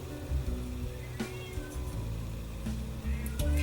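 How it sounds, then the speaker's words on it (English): A sandy colored cat meows repeatedly in the background, its drawn-out calls rising and falling at moderate distance amid faint clicks and handling noise. "If you can hear the cat in the background, she does that a lot."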